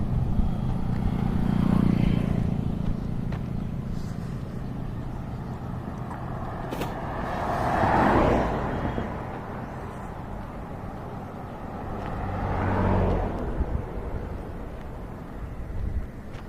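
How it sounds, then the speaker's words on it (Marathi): Roadside highway traffic with tractor trolleys and milk carriers going by, outdoors in wind; three vehicles swell up and fade away one after another over a constant windy rumble. "इकडचे ट्रॅक्टर ट्रॉली दूधवाले येताना जातानी हायवेवरील गाड्या एकदम मस्त आहेत"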